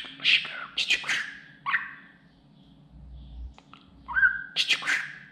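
A pet budgerigar chirps and whistles in short, bright bursts, with one drawn-out whistle and gaps between the calls. It sounds near and clear over a low background hum.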